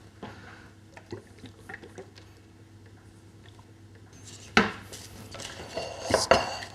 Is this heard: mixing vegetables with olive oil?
yes